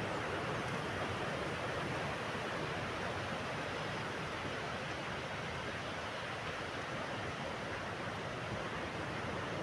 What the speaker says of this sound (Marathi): लाटा मस्त उंच उसळत आहेत आज.